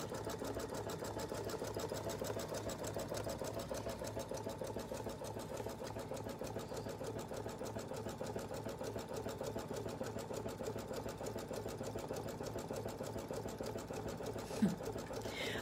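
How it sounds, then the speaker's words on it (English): Embroidery machine satin stitching on a hooped door hanger project, a steady, fast, even mechanical whir that runs continuously and fairly quietly throughout. "So here it is doing the satin stitching."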